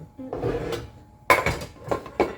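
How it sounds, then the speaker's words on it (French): Cooked potatoes, still hot, cut one at a time on a board, giving a few distinct knife-and-board knocks and clatters with quiet gaps between them, close and fairly loud. "je suis en train de commencer à couper mes pommes de terre"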